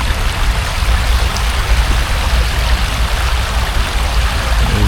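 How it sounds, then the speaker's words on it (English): Water from a small waterfall pours into a little creek in a rhododendron garden, making a continuous, loud, close rushing wash with no break and no voices. "you guys can kind of see the waterfalls coming from, we call it a little creek here"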